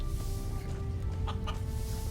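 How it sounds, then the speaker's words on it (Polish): Chickens cluck in the video game Risen, a few short clucks standing out against a steady ambient game background with a low hum. "To są jakieś kurczaki."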